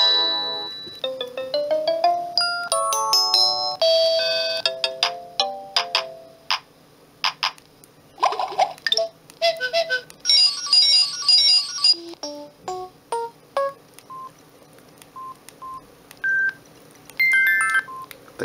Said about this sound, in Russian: Звук СМС.